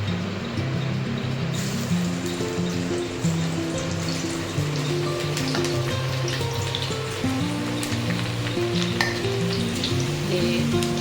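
Garlic, red chilli and dry spices frying in hot oil for a gourd curry, a loud, close, continuous sizzle with bubbling and clinks of stirring throughout; no talking.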